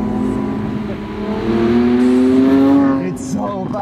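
A 2020 Lamborghini Aventador SVJ engine revs loudly and rises in pitch, then drops briefly before climbing again, close and aggressive.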